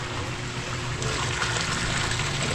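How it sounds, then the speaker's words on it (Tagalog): Water drains steadily from a residential swimming pool being emptied before repainting, a continuous close rushing trickle that holds even and loud throughout with no voices. "I-drain ko muna to para mapinturan ko mamaya"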